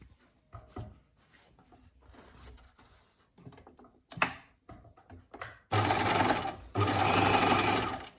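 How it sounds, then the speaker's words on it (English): A sewing machine overlocks and edge-stitches the neckline of medical scrubs, with scattered handling clicks and fabric rustle first, then two loud, fast continuous runs of stitching near the end, close up. "I would then overlock these edges down and edge stitch the top for extra security"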